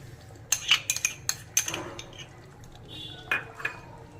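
Pomfret curry with fresh cream is mixed with a spatula in a pan, a quick run of sharp metallic clinks and scrapes followed by a softer pause and two more taps, close and clear.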